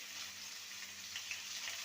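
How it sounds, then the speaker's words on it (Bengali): Elephant foot yam pieces frying in hot oil for a Bengali fish curry, a steady, soft hiss and crackle of sizzling, quiet and close with no voices. "প্রথমে ওলটাকে ভেজে নেব।"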